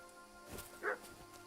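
A dog barks in the Kingdom Come 2 video game, a couple of short, fairly faint yaps around the middle, set against steady low game ambience.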